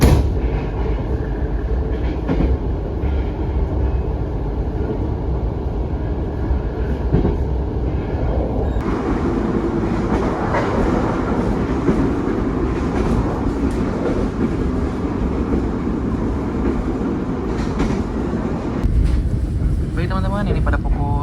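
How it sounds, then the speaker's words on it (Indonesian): Argo Cirebon passenger train standing at Brebes station, a steady low rumble of engine and carriage noise running throughout, with a brighter shift partway through and faint voices underneath. "kereta api Argo Cirebon telah berhenti di stasiun Brebes"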